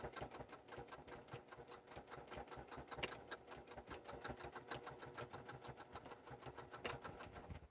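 A sewing machine stitches a bag seam in rapid, steady mechanical pulses, close and fairly quiet, running continuously with a few brief louder clacks.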